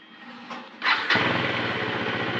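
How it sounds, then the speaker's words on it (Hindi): A motorcycle engine is cranked and fires up, settling into a steady, close, loud idle with a low rumbling pulse after a brief starter whir. "आम बाइक एबे कॉल स्टार्ट हे गला"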